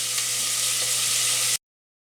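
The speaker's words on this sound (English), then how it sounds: "we're just going to flip it over and saute it, and then take it out, and then put in another batch." Pork cubes sauté in an Instant Pot for low-carb carnitas, making a loud, even, hissing sizzle that holds steady for about a second and a half before cutting off abruptly.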